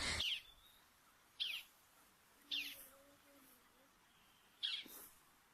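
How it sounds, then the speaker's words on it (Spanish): Sharp bird calls ring out four times at irregular intervals against a quiet, dark background, with a faint low voice murmuring between them. "las aves continuaban cantando con alegría"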